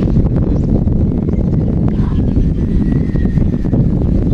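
Wind buffets the microphone outdoors on a gray, overcast day of airgun fishing, a steady low rumble filling the whole stretch with no talking.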